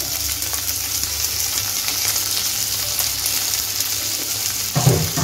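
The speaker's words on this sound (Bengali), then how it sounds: "এখন আমি মাছটা ভেজে নিচ্ছি" Shrimp frying in a pan, a dense, loud, continuous sizzle held close throughout, with a brief burst of stirring or scraping near the end.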